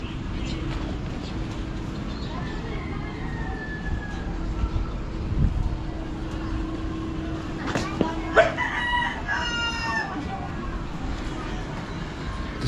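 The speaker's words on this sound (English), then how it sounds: "Despite the occasional rooster and dog barking" Rooster crowing in Makati, Philippines, repeated harmonic calls around the middle of the clip over a steady urban hum and distant background noise, moderately loud but not close.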